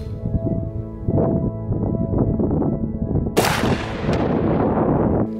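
A single loud shotgun blast from a Benelli M2 with a cylinder bore choke, fired at a target ten metres away outdoors, a sharp crack with a long rolling tail over wind noise.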